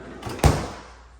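A refrigerator freezer drawer in a Sun City, Georgetown home slides and bumps shut once, a short soft rumble followed by a sharper thud that fades quickly in a quiet room.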